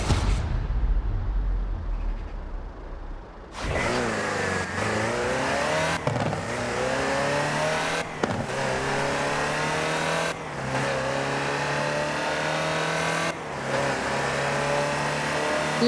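Land Rover Series III driven in Forza Horizon 4: a steady, droning engine note rising through the gears, with several clear shifts where the pitch drops and climbs again, loud and close.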